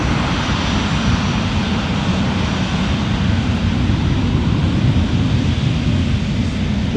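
An airliner takes off from Edinburgh Airport, rotating and climbing into low cloud: a loud, steady broadband engine roar with heavy low rumble that holds at constant strength throughout, with no voices.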